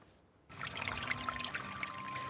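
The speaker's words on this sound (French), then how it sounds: "Une douce mélodie de ruisseau, un décor apaisant, dans une vallée où poussent 300 théiers." Babbling stream in a valley tea plantation, a bright continuous trickle of water that starts abruptly after a brief quiet moment and keeps flowing steadily, close and fairly loud, with no voices.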